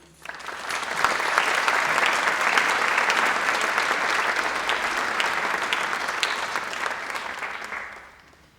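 Audience applause welcoming a lecturer on Islam and Sufism to the podium, a dense, steady ovation that swells quickly, holds for about seven seconds and then fades out, with no voices over it.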